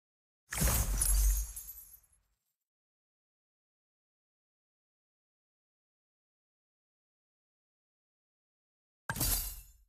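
Glass-like shattering in a video game involving Jawhead, a loud crash with a ringing tail that fades over about a second and a half, followed by long silence and a second brief burst at the very end.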